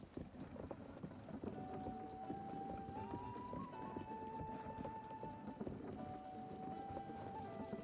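Hooves clip-clop steadily as a horse runs in Zelda: Tears of the Kingdom, a continuous rhythmic patter at moderate distance with a sustained musical tone over it and a quiet voice now and then.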